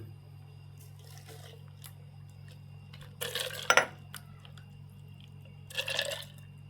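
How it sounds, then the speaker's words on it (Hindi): A mint and peach milkshake is poured into a glass over ice, giving short liquid splashes and clinks in two brief bursts over a low steady hum, with quiet gaps between. "कि मैं गिलास में डाल रहा हूँ। ये आइस डाल दी मैंने इसमें।"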